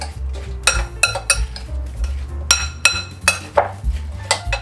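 Creamy vegan apple salad being mixed in a bowl, with a utensil clinking and scraping against the dish in irregular, close, fairly loud strikes and a low rumble underneath.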